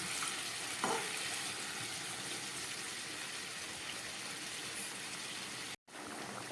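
A drumstick and potato curry bubbles in a pan with a continuous soft, even simmering hiss, cut off abruptly near the end.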